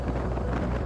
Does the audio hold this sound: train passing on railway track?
no